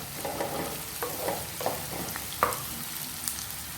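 Onions frying in a pan for chicken chettinad give a steady low sizzle, broken by several scraping stirs of a spoon spaced through the clip, with no voices.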